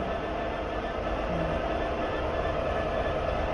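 Union Pacific coal train with three locomotives in Train Sim World 2 on Sherman Hill, a steady low rumble and rolling drone that holds at an even level throughout with no voices.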